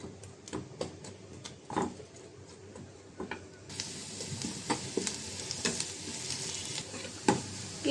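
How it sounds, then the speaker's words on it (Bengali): Onion and garlic frying in a pan for lentil dal, a steady sizzle broken by sharp spatula clicks and scrapes against the pan, louder and hissier in the second half, no speech. "ডালের জন্য পেঁয়াজ রসুন ভেজে নেব।"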